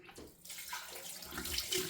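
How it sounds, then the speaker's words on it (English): Cold tap water runs and splashes as a face is rinsed after a wet shave with a Merkur 37C razor, a fairly quiet, uneven splashing stream with no talking. "I'm gonna rinse the face with cold water."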